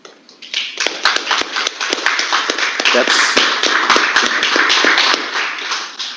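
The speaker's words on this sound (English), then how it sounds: "you'll always hear these clapping hands" An audience at a virtual goodwill ambassador signing ceremony claps its hands, with sharp, distinct claps building into a steady patter for several seconds before thinning out.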